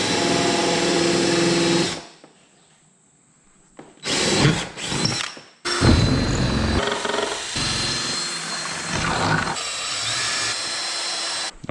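Power drill driving screws into a front splitter on an S550 Mustang during install: loud whirring bursts of the drill with a quiet pause between runs, close by, no talk.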